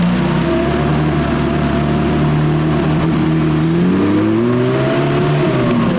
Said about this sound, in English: So the clutch engages really, really nicely.